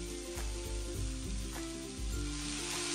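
Vegetables frying gently in oil with garlic in a pan, a constant loud sizzle with a few soft knocks as they settle, close up, no voices.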